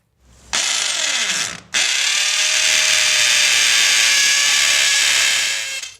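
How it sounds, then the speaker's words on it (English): A power drill bores two holes into a garden feature wall, a short loud whine that cuts out briefly, then a long steady high-pitched drilling run that fades at the end. "we then take our drill and we're going to drill 2 holes in here"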